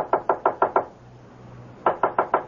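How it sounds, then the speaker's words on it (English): Knocking on a locked study door as a radio drama effect: two clear bursts of five sharp, evenly spaced raps each, loud and close, separated by a quiet pause with a low hum. "Oh, knock on it."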